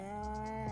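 A cow moos in The Sims, one sustained, loud, close lowing call with a slight rise near the end, heard alone without any talk.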